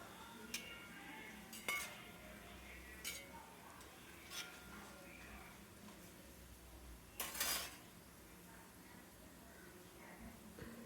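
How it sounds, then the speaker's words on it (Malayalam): A metal spoon stirs fried chips with turmeric and salt in a pan, making scattered clinks and scrapes against the metal over about eleven seconds. A few of the knocks are louder, and faint voices can be heard in the background. "മഞ്ഞൾപ്പൊടിയും ഉപ്പും ഇട്ട് കഴിഞ്ഞാൽ ഇതുപോലെ നന്നായിട്ടൊന്ന് ഇളക്കി കൊടുക്കുക"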